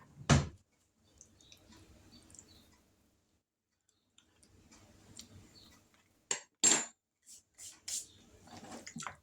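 Metal spoons are grabbed from a kitchen drawer while cooking brown beans and chicken with dressing: a sharp clink at the start, then softer rattling and a cluster of clinks and taps toward the end, close by in a quiet room.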